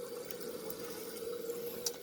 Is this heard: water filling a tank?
yes